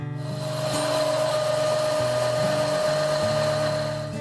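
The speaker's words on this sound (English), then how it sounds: "The back of the handle is ground one final time" A profile sander grinds the back of a wooden bow handle in a bow-making shop, a loud continuous motor whine with shifting pitch and grinding tone as the wood is worked, no voices.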